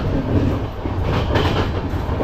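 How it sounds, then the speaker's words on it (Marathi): A train rumbles steadily along the rails at about 100 km/h, with a continuous loud roar and faint rhythmic clatter of wheels, close by. "तो ट्रेन एकदम रफ्तारने पळते रफ्तार."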